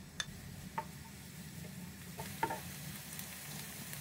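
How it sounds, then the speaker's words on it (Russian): Quiet, steady sizzling of onion frying in oil in a pan until golden, with a few light clicks of stirring over the hiss. "Лук обжариваем до золотистого цвета."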